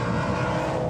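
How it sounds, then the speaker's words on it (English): A Ford Mustang Dark Horse with a naturally aspirated 500 hp V8 roars loudly and steadily through a short burst, with a dense, unbroken engine drone and no voices. "Oh, it is an incredibly leggy V8."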